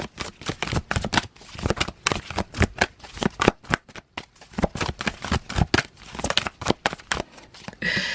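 Playing cards shuffled for a tarot reading: a rapid run of crisp riffling bursts, near and fairly loud, with short gaps between shuffles and no voice over them.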